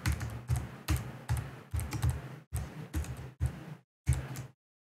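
Quick, close bursts of keystrokes on a computer keyboard, typing in short rhythmic clusters separated by brief pauses, ending in silence.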